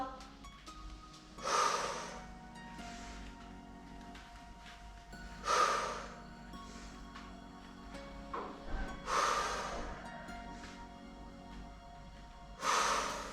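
Slow, deliberate breaths during a beginner exercise session, forceful exhalations and sharp inhalations recurring roughly every three to four seconds, close and fairly quiet against a low background.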